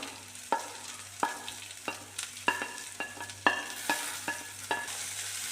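Cabbage stir-frying in a pan with salt and turmeric, a soft steady sizzle broken by repeated sharp scraping clacks of a utensil stirring, roughly one every half second, close and alone.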